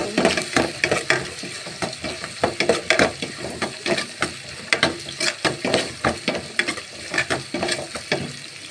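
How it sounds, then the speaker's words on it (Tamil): Curry leaves and onions frying in a pan, with a steady sizzle under quick, regular stirring scrapes, close and fairly loud, without talk. "இப்போ கருவேப்பிலையை போட்டுக்கலாம். போட்டு நல்லா வதக்கலாம்."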